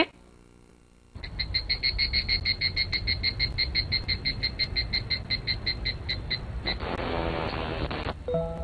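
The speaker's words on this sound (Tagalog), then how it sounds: "Ang ingay ng kuliglig." A rapid, pulsing cricket chirp starts abruptly and repeats in a steady rhythm, loud and close, fading into a buzzier trill near the end, in late summer.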